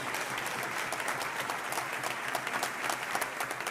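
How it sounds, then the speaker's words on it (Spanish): A crowd at a community celebration at a Hungarian society hall applauds performers, brisk and continuous clapping with scattered sharper claps standing out close by. "Fuertes los aplausos para ellos una vez más."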